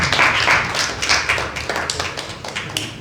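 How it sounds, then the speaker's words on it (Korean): Scattered audience clapping at a press training session welcoming a professor to the stage, a fairly close patter of individual claps with uneven rhythm that thins out slightly toward the end. "박수 부탁드립니다"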